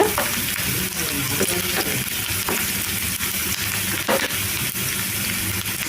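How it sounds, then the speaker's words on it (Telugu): Thinly sliced onion pieces fry in a pan for a curry, giving a steady crackling sizzle with occasional louder pops and stirring clatter, close and continuous without talk. "సన్నగా కట్ చేసిన ఉల్లిపాయ ముక్కలు వేసుకుంటున్నాను ఉల్లిపాయ ముక్కలు కొద్దిగా ఫ్రై అయిన తర్వాత"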